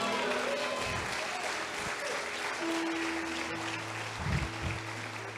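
Church congregation applauding God, a faint, distant, continuous patter of clapping with low hums and murmuring underneath.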